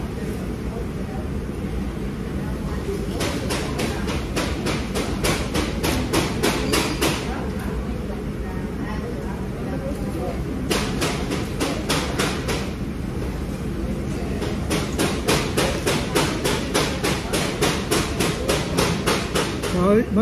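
Rapid hammering blows in the background, coming in dense bursts of regular knocks with brief pauses, steady and moderately loud throughout, with faint talk mixed in underneath.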